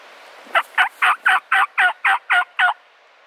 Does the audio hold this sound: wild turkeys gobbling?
yes